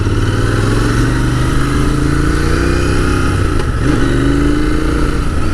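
A Royal Enfield Interceptor 650 motorcycle is ridden, its engine loud and close, with a throbbing exhaust note that rises and falls in pitch as the throttle changes, over constant road and wind noise.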